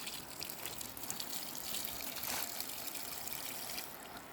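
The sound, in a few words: watering garden with water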